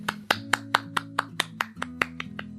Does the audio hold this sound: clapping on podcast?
yes